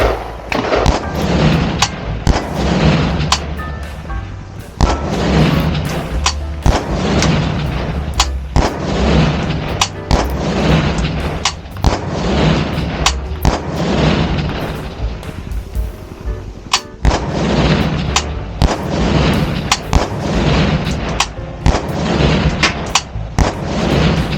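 AK-74 rifle firing during long-range shooting at 1000 metres, with loud, close, sharp reports fired rapidly one after another, then steady repeated shots all the way through.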